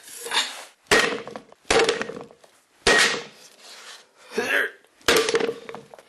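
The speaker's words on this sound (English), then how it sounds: "Okay, so I gotta whack it here really hard." Hard hammer blows strike the wooden head of an Asian kick wheel (kerokuro or karatsu style), five or six separate loud, close knocks, each with a short ringing woody decay.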